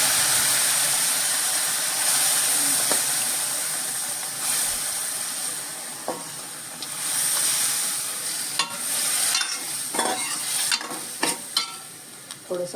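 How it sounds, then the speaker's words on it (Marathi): Cooked dal and tondli tipped into a hot, sizzling tempering crackle and hiss loudly at first, then settle into an uneven fry broken by spoon scrapes and clinks against the pan, with no talking. "आता ही मी जी शिजलेली डाळ आणि तोंडली आहे ती आता फोडणीवर घालते."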